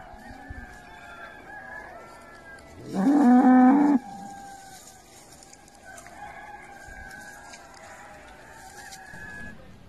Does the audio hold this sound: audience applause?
no